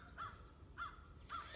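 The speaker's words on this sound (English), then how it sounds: "Kaylee, there's a crow right above you" A crow caws three times from just overhead outdoors, each harsh call spaced about half a second apart and standing clear over quiet background noise, with no talking.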